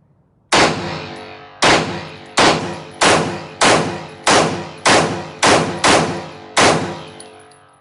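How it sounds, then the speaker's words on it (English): Ten pistol shots fired at a target from about seven yards, sharp loud cracks in a quick, fairly even string, each with a short decaying echo, heard alone and close. "It shoots just like I like it to shoot. 10 rounds, that quick."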